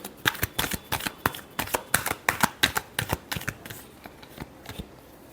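Tarot cards being shuffled by hand in a rapid series of sharp, crisp riffling snaps, loud and close, thinning out toward the end.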